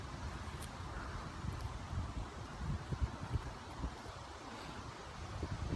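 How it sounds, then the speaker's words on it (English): Steady outdoor wind blowing across the microphone on a breezy day, a continuous low rumble of buffeting gusts with faint rustle, no voices. "It's kind of windy today, but the wind feels honestly so good."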